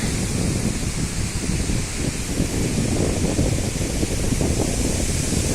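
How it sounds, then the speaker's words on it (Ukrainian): Strong wind in a Carpathian mountain forest roars and buffets steadily, a broad rushing noise with gusty rumbling, loud and continuous throughout. "Вітер такий добрячий."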